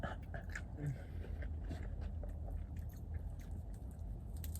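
Close, wet chewing of crunchy Dave's Hot Chicken, steady munching and crunching bites with soft mouth sounds throughout, no talking.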